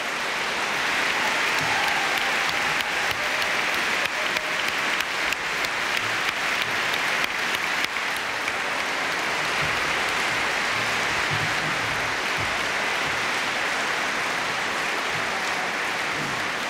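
Sustained, dense applause from an audience at a film award ceremony fills the room evenly, a loud unbroken wash of clapping with no voices standing out.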